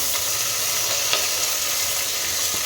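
Onions frying in a pan for a radish buttermilk sambar, a steady close sizzle with a few light scrapes of stirring throughout, no voices.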